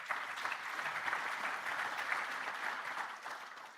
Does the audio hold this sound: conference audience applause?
yes